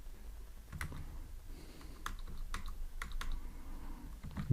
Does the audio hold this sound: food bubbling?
no